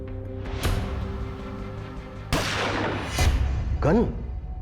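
Gunshots as a girl shoots two boys: several sharp, loud bangs spaced a second or so apart over a droning background, with a brief shout near the end.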